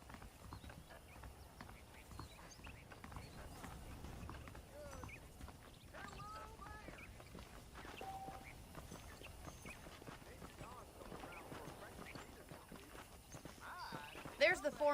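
Horse hooves clip-clop steadily through a Western ranch scene in Red Dead Redemption, a walking gait that carries the whole stretch, with someone talking over it and a brief louder burst near the end.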